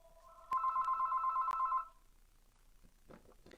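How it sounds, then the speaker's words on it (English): A telephone rings indoors in a home craft room, one steady electronic ring tone lasting over a second and cut off by brief clicks, followed by faint rustling. "Why did I know the phone was going to ring?"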